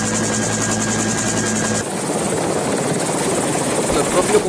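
Loud, close helicopter rotor thumping and engine roar during a military rescue operation in Colombia, continuous throughout with a sudden shift in tone partway.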